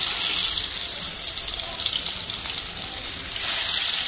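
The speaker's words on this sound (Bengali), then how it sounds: "এটা কইলাম মাছ ভাজা করে লাই" Fish frying in hot oil in a home kitchen, a steady broad sizzle that holds loud and close throughout with no talk, swelling slightly near the end.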